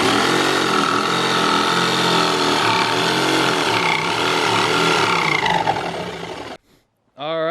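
Power saw cutting 1/4 inch hardwood plywood for a homemade boat windshield, a loud continuous whining roar that holds steady, tapers off, and falls silent before a brief restart.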